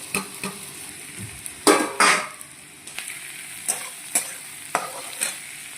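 Whole garlic, sliced onion, ginger and chili fry in hot oil in a pan while meat curry is being cooked, a steady low sizzle broken by sharp scraping stirs of a spatula against the pan.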